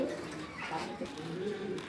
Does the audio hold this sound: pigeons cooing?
yes